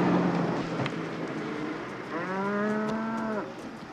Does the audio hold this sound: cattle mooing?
yes